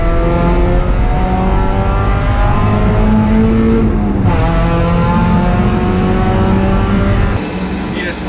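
A race car at Sonoma Raceway accelerates hard out of a corner, its loud engine note climbing steadily through the gears close by while someone talks over it.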